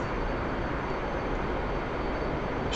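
An F-15EX jet in the DCS flight simulator accelerates after takeoff, its engines a steady, loud, broadband roar that holds evenly throughout.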